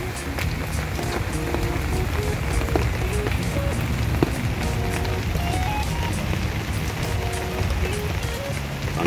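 Steady rain falls across an adenium garden, a dense continuous patter on leaves and surfaces with occasional louder drips, heard close and unbroken with no voices.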